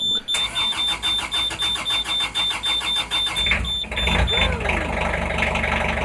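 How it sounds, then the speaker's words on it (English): A narrowboat diesel engine is started with a rhythmic, rapid cranking that chugs for several seconds before catching into a rough, low running rumble, with a faint steady whine above it. "We'll begin with me turning on the engine wrong."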